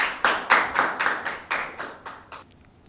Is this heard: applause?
yes